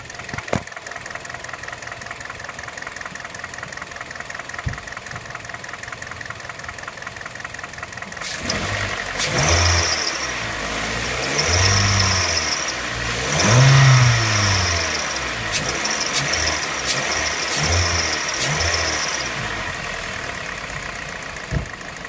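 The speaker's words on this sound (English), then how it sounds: "I'll rev the motor up a little bit right now and give you guys a listen." A 2010 Kia Forte 2.0 engine with a loud ticking fault idles steadily, then is revved up in several rising and falling bursts, close and loud with no talking.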